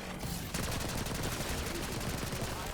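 A Maelstrom laser weapon fires in Call of Duty Zombies, a rapid stream of crackling, buzzing bursts after a brief lull, sustained and fairly quiet, with no voices.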